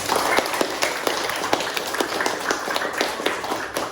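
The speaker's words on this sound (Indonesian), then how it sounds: "Beri tepuk tangan dulu untuk kita." A school class claps together in a classroom lesson, a loud patter with distinct sharp claps that fall into a loose beat through the whole stretch.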